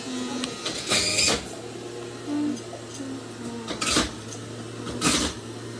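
A juicer's steady low motor hum drones throughout, with intermittent clattering and scraping bursts as green produce is pushed through, close by with no talking.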